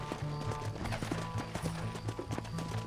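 Horse hooves clip-clopping in the Red Dead Redemption video game: steady, rhythmic galloping beats over a low rumble of game ambience, with a faint neigh and some distant talk mixed in.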